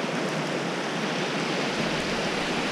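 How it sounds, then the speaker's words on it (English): A creek near the Beaverfork spillway flows with a steady, close, broadband rush of water, uniform and unbroken throughout, with no voices. "Okay, we're about to cross this river."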